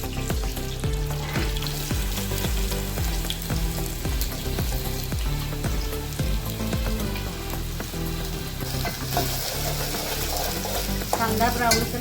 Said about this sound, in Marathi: कांदा ब्राऊन कलर भाजून